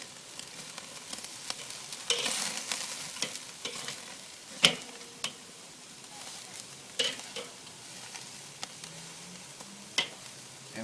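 Ribeye steaks searing on a Weber kettle grill by the reverse sear method give a quiet hiss, broken by sharp clanks and scrapes as they are flipped.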